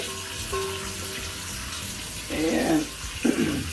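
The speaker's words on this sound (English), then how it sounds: "wash our clothes with what they call a washboard." Clothes are washed by hand in water on a washboard, giving a steady watery swish and slosh with a few louder splashing scrubs close by, and no talking.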